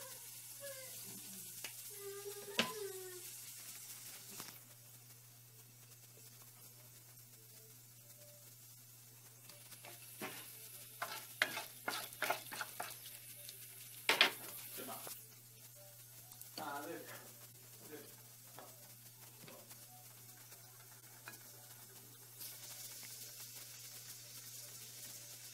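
Okra and chana dal with turmeric powder in a pan produce a faint, steady sizzle under a constant low hum, with occasional stirring clinks and scrapes.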